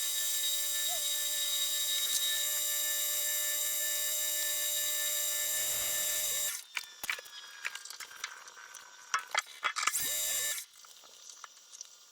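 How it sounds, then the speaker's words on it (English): PM 1440TL lathe drilling and reaming a wheel hub held in a 1/2-inch collet: a steady machine whine and hum for about six seconds, then stops and knocks, and the motor winding down. "get this in a 1/2-inch collet, get it drilled and reamed"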